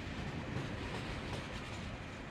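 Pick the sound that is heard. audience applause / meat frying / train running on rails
train running on rails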